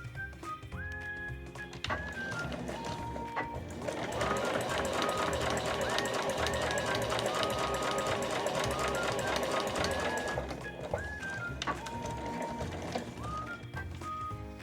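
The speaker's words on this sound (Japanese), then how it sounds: "2つ折りにしたらまずこの上の部分を1センチ縫います。" A sewing machine stitches the top of a folded 16 cm square pen holder for a quilted tablet case, running steadily for several seconds with short bursts before and after. Background music plays throughout.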